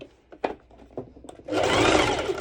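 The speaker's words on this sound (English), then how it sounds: "first I'll be doing a straight stitch over my bottom part" A sewing machine runs a straight stitch on fabric, starting after a few light clicks and thumps of handling, then whirring loudly and steadily for about a second at close range.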